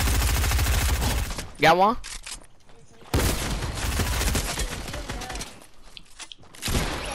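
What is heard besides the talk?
gunfire from the video game Fortnite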